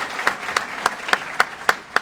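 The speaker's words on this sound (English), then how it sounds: "another round of applause again for all the graduates today from 3rd Battalion" Applause for the graduates at a battalion graduation ceremony, seven distinct claps at a steady rhythm, fairly near, standing out clearly over quiet background noise.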